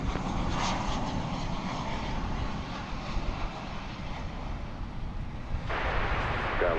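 An airliner on takeoff roll from runway 18 left at DFW Airport gives a broad, steady engine roar that holds loud and continuous, with a brighter surge of noise near the end.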